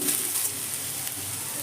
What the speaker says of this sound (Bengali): প্রথমে আমি তেলের মধ্যে পেঁয়াজটা দিয়ে দিলাম।